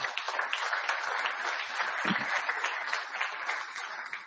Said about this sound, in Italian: Io ti farei un applauso anche per questo.